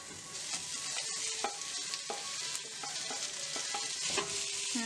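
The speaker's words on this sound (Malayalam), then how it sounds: "ഇനി നമുക്ക് നമ്മൾ ചിക്കി വെച്ചിരിക്കുന്ന മുട്ടയും പനീറും ഈ വെജിറ്റബിൾസിലേക്ക് ആഡ്" Egg and paneer are stirred into frying vegetables for paneer fried rice, giving a steady close sizzle with repeated scrapes and clinks of a spoon against the pan, and no voices.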